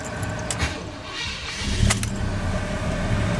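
A dually pickup with a swapped big-block V8 cranks and fires up, a steady rumbling idle building under some jingling keys and clicks, close and fairly loud with no talking.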